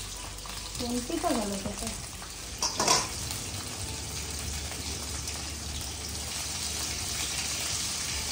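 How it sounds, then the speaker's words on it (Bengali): Potatoes frying in a pan with salt added, a continuous close crackling sizzle that runs throughout, with a brief stirring clatter near the start and a voice speaking briefly over it. "আলুটা একটু আগে ভেজে নিলে হবে"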